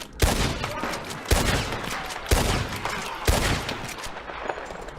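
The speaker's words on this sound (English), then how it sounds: "I aimed at the buck, put 4 quick shots into it." Four quick, loud gunshots fired at a legendary buck in Red Dead Redemption 2, evenly spaced about a second apart, each followed by a long rumbling echo, with no talking.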